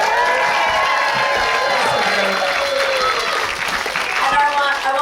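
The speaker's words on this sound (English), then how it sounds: "we give them one more round of applause?" Talent show audience at the Arena Theater in Point Arena, California, applauding and cheering in a dense, sustained wash of clapping with whoops and a speaking voice over the top throughout.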